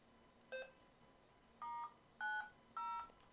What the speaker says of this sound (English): So I can key up and dial in DTMF.